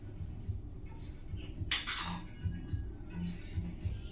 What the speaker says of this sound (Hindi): तो हींग डाल दिया और अब हम सब चीज़ों को मिक्स कर देते हैं।